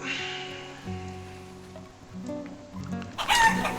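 Chickens cluck in Life is Feudal: Forest Village, with a rooster-like crow and layered fowl calls under a steady ambient game bed, growing louder in a bright burst near the end.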